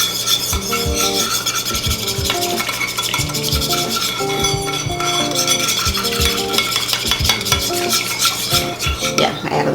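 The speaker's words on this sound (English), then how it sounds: "Let's stir that up." A spoon stirs seasoned batter for cauliflower wings, making a steady run of close, wet scraping and clinking strokes against the bowl, with rhythmic rasping that carries on throughout and no talking.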